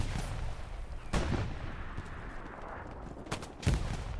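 Sniper gunfire in the video game Hell Let Loose: a few sharp, loud shots ring out separately, with one near the start and a pair close together later, over a low steady battlefield rumble.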